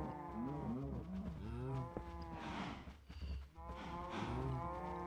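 Several cows in the Agrarian Skies video game moo loudly and close by, with long drawn-out calls that overlap one another throughout, a brief lull in the middle, then another cow calling at the end.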